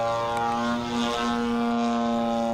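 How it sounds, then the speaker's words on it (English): A large model airplane powered by a DLE-60 twin-cylinder gasoline engine drones steadily in flight, a loud buzzing tone with strong harmonics and a slight pitch dip midway, with no talk. "The DLE-60 twin pulls this thing around just fine."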